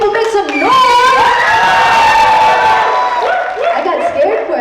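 A stand-up comedy audience roars and cheers at a call for noise, a loud sustained crowd of whoops and shouts with applause underneath, tapering slightly near the end.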